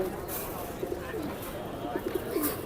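Pigeons coo at a bustling pigeon market in Tongi before Eid, several soft throaty coos rising and falling against a background of crowd murmur and nearby talking.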